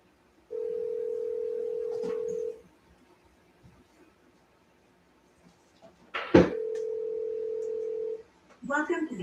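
Telephone dial tone heard while placing a call, a steady tone sounding twice for about two seconds each, with brief speech and knocks between and after.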